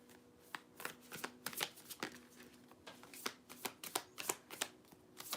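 Tarot cards being shuffled by hand, a steady run of crisp riffling snaps and soft slaps at close range, continuing without any talking.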